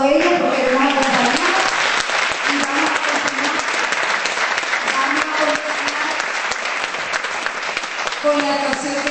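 A crowd at an association's anniversary celebration breaks into sustained applause, loud and dense clapping over several seconds, with music or voices faintly audible beneath at the start and end.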